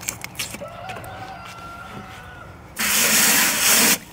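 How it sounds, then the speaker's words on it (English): A rooster crows at a tulip farm, a loud hoarse burst of about a second near the end after quieter background sounds. "Rooster agrees with me."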